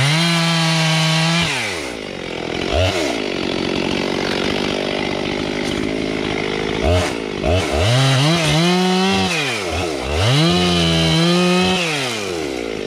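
A chainsaw fitted with a longer bar cuts through wood, its engine revving up and dropping back in repeated loud surges, with short idle pauses between cuts.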